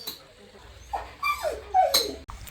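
Dogs whine and yip in short, high, excited bursts while fussing over food, close by, with a quieter stretch before the noisier cries.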